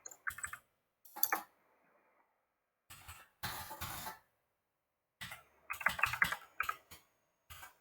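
Computer keyboard typing during an HTML coding lesson comes in several short bursts of close key clicks separated by silences, with no talking.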